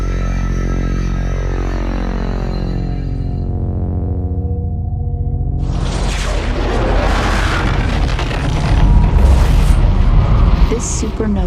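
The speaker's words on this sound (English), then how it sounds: "This supernova rattles the fabric of space, opening a void we call a black hole." A supernova explosion sound effect starts as deep, layered droning pulses, then bursts into a loud, rumbling boom that swells and roars toward the end.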